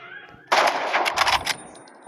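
Sniper rifle shots in the shooter game Roblox Rivals, a sudden loud crack followed by a burst of sharp repeated reports over about a second, then fading out.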